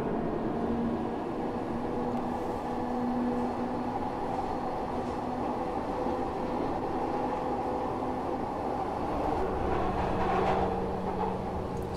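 Glasgow Subway train in Train Simulator Classic driving itself, a steady rumbling rail drone with faint squeals running for the whole stretch, no talking.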